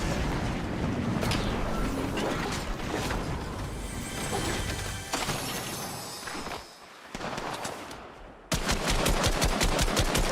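Rapid automatic gunfire in the video game Fortnite during a competitive match, dense bursts of shots filling the clip, a brief lull, then sharp evenly spaced shots at close range.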